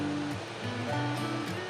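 Water is poured into a blender jar holding mango for a mango shake, a close, steady splashing pour with a faint hum beneath it.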